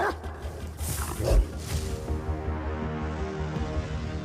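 Dogs bark and yip in a rough, growly cluster, moderately loud with a sharp peak early on, over a busy background.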